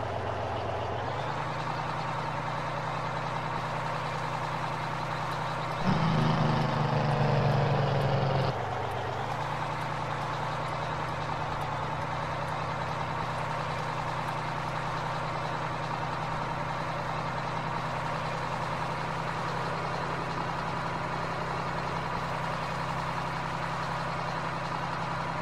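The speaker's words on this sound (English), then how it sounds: "The Jake in this truck definitely does not take very long to slow this truck down, which is pretty nice." A simulated truck engine in a driving game drones steadily, with a louder, rougher engine-brake rattle for a few seconds before the engine settles back to an even hum.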